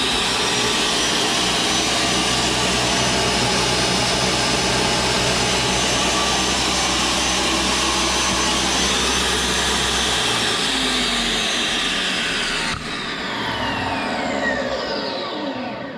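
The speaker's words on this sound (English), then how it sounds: "Let's see how well the pump works." A DeWalt D36000 tile saw runs with its water pump going, giving a steady loud whirring drone that holds unbroken, shifting slightly in tone near the end.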